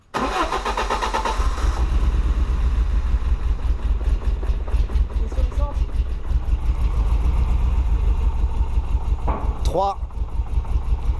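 A car engine fitted with a new exhaust starts and settles into a loud, close idle, a rumbling drone with small revs, while people talk over it throughout.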